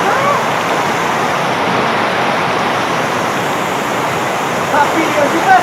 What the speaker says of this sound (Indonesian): Banjir lumpur menerjang objek wisata Guci Gunung Jawa